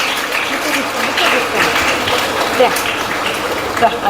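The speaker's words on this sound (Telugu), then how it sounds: "మా క్లాప్స్ కొట్టండి" Audience in a CSI church in Rameswaram claps together during a women's fellowship special service, with dense, steady applause close by and a voice speaking over it.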